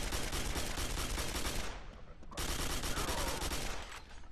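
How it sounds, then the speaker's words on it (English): Rapid continuous gunfire in the shooter Quake 4, two loud sustained bursts separated by a short lull, with no talk over the shooting. "Oh, that was the guy who I was shooting."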